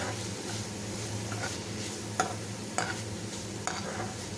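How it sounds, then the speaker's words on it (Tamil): Masala-coated raw banana pieces sizzle steadily in a frying pan while a spatula stirs them, with a few sharp scrapes and taps against the pan standing out over the continuous frying hiss. "இந்த மாதிரி அப்பப்போ எல்லா வாழைக்காய் பீசஸ்லேயும் படுற மாதிரி கிளறி விட்டுக்கோங்க"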